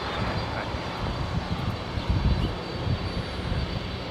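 A Boeing 747 jet taking off on runway 25 left at LAX, a loud, continuous broadband engine roar that holds steady across the whole stretch, heard without talk.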